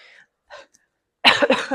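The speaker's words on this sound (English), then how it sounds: "So sorry about coughing again." A couple of quick, breathy coughs close by, followed after a short pause by a louder, harsher cough burst.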